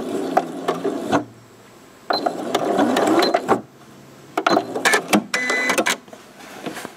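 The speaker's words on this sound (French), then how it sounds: "on a cousu notre premier ourlet" Sewing machine stitching a fabric hem, running in several short bursts of fast mechanical whirring and clatter, with quiet pauses between runs.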